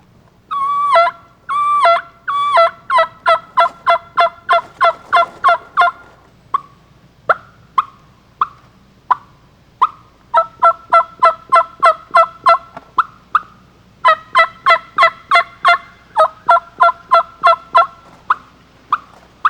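A turkey hen call imitated with a wooden box call, heard as a long series of sharp, rhythmic yelps in quick runs and slower single notes, clear and close with no talk.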